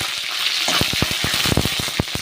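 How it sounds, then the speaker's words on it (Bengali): Chopped garlic and green chillies fry in hot oil in a kadai, a loud, close crackling sizzle broken by a quick run of sharp stirring clacks. "এবার আমি রসুন ফোড়ন দিয়ে দেবো, রসুন আর কাঁচা লঙ্কা"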